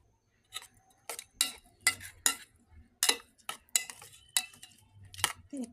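Hilsa fish being mixed with mustard oil paste for steaming, a spoon scraping and clacking against a bowl in a series of sharp, close strikes with short pauses between them, no talking.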